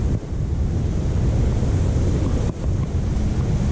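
The Naugatuck River rushes past at Tingue Dam on a hot day, a loud, close, continuous roar of churning water heard from right beside it, with some wind buffeting the microphone.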